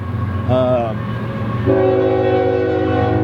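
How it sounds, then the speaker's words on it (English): A train rumbles past with a steady low roar, sounding a short horn blast and then a long sustained blare, loud and close. "Sorry, there's a train going by."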